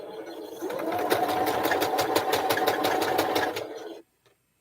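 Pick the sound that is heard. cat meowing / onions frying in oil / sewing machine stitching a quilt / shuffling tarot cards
sewing machine stitching a quilt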